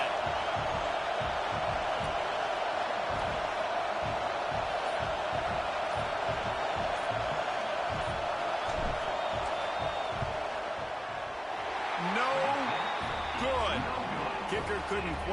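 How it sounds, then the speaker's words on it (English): Stadium crowd in College Football 26 roaring steadily through a field goal attempt, a dense, loud wash of noise with rising whoops and cheers near the end, under a commentator's voice. "This crowd trying to do its part to get inside the kicker's head."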